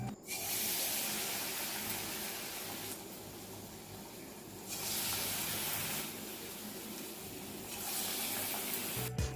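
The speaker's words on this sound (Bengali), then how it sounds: "এবার গরম তেলে একে একে ফুলুরিগুলো ছাড়বো" Sweet palm fritters lowered one by one into hot oil over a low gas flame, giving a steady, fairly loud bubbling sizzle that swells and eases in waves, with no talk.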